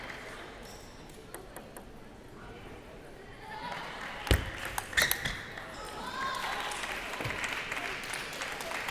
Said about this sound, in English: you see applause from the audience because that's just an impressive shot